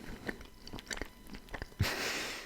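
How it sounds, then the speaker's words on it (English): Someone chews Ritter Sport chocolate candy up close, with irregular crunchy bites and mouth clicks, ending in a louder rustle of the wrapper or a breathy noise. "This thing can pick up my chewing noises really well, I bet."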